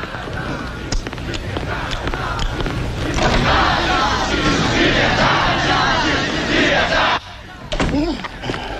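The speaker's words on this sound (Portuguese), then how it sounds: "Tem uma multidão lá fora gritando" A crowd of revolutionaries shouts outside a governor's palace in Lisbon, a loud, dense mass of overlapping voices that swells and churns for several seconds before dropping off abruptly, then briefly resurging.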